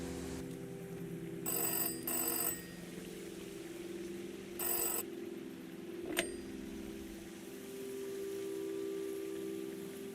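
A telephone bell rings in the video game Season: A Letter to the Future, three bright bursts spaced apart over a steady low ambient drone, followed by a sharp click, with a soft rain-like wash beneath.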